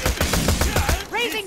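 Rapid gunfire bursts in Borderlands: The Pre-Sequel, a loud stuttering volley of shots followed by a short electronic warbling effect, with game sounds layered underneath.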